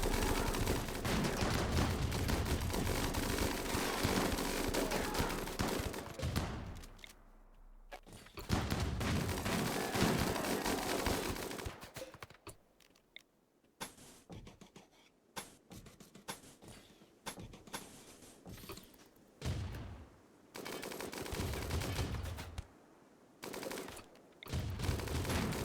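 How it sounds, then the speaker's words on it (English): Autocannons and rotary turrets in the Rimworld colony game unleash long, loud streams of rapid fire in several sustained volleys separated by brief lulls and scattered shorter bursts. "here comes the autocannons and the rotary turrets"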